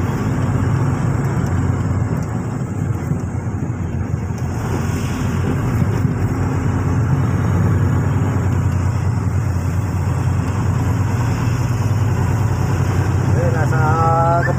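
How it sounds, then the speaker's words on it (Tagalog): Night traffic through Gapan City, a constant low engine and road drone from a travelling vehicle, with a brief rising tone near the end. "Kaya maraming sasakyan."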